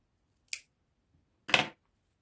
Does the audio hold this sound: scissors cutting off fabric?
yes